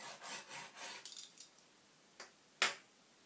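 Etching needle scratching shallow marks into curing plaster, a few faint, quick scraping strokes followed by two sharper isolated scratches in a quiet room.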